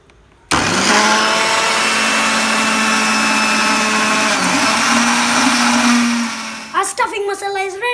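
An electric kitchen grinder whirs loudly for several seconds, blending fried red chilies, peanuts, coriander and cumin seeds into masala, a steady high-pitched motor roar that winds down near the end with a few rattling jolts.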